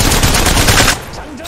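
Havok energy rifle fires a sustained automatic burst in Apex Legends, loud and dense rapid shots for about a second before cutting off to a quieter tail.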